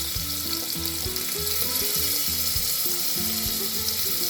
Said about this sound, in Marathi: त्याच्यामध्ये ठेचलेला लसूण घालायचा आहे आपल्याला आणि बारीक चिरलेला एक कांदा